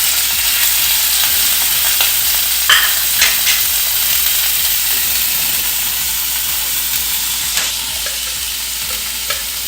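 Chicken pieces sizzle in hot oil in a pan, a steady broadband frying hiss with occasional sharper pops and crackles, close and continuous throughout.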